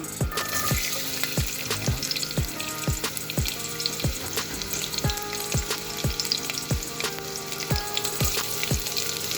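Garlic fries in oil for pork adobo, a dense, close crackling sizzle under a steady run of sharp stirring taps and scrapes against the pan.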